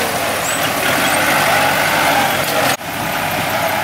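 Heavy dump truck and bulldozer pushing fill soil at a land-filling site, a steady loud diesel engine rumble with a brief sharp dip near the end, no talk.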